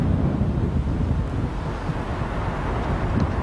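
Strong wind blows across the Humber Bridge during the 1992 marathon, roaring and buffeting the microphone in a loud, continuous rush without pause.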